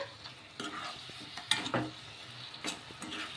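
Vadas stirred slowly in a pan with no frying oil, giving a steady soft scraping and faint sizzle with a few louder clinks of the spoon against the pan, close up and without voices.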